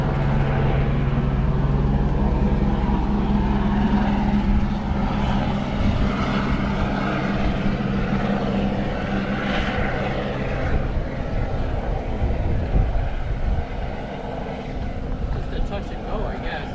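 Loud, continuous engine and rotor rumble from a helicopter landing on a lawn in Boca Chica, close and steady throughout, with people talking over it.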